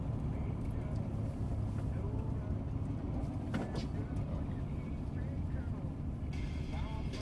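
A 1994 Chevy truck engine drones steadily while driving, a constant low rumble with road noise that stays loud and even throughout, with no clear gear changes.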